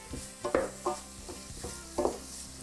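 Tofu stirred in a pan with an Italian spice mix: several spoon-and-scrape strokes in an irregular rhythm over a faint, steady sizzle, close and fairly quiet, with no talking.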